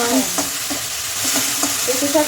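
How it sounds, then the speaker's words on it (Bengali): Leafy greens fry in a pan in a home kitchen, giving a loud, continuous sizzle with repeated stirring scrapes close by. "শাক ভাজা"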